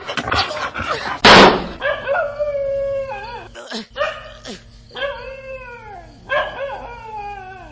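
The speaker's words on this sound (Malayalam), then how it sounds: "ദാ അവിടെ ആ പട്ടി റൂക്കാസിനെ കടിച്ചു കയറുകയാണ്" A dog snarls, yelps and howls while attacking a man in a radio drama of a Sherlock Holmes story, loud and close, with a sharp burst followed by repeated drawn-out whimpering howls and gaps between them.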